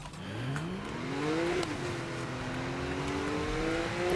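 Car engine in Need for Speed Most Wanted (2012) revving steadily through a drift, pitch climbing then holding high and sustained for several seconds, with no talking over it.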